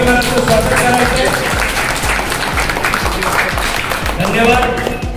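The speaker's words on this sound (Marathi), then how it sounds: "त्याकरता जोरदार टाळ्या वाजून या परिवाराचं स्वागत करायचं." An audience claps steadily and loudly to welcome a family at a community gathering, a dense continuous patter of many hands with voices mixed in.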